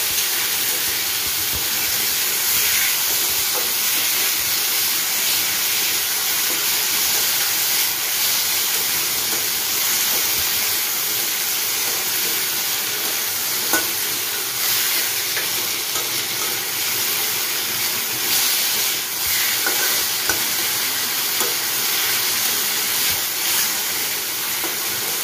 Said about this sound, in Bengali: কচুর লতিগুলো দিয়ে দিল এবার তেলে